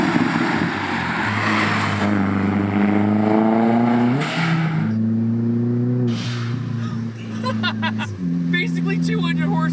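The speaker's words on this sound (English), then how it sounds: "and it gives you a blow-off noise." MK4 VW Golf GTI with a 1.8 turbo droning through the gears, with short airy whooshes of blow-off venting between throttle changes, loud and close.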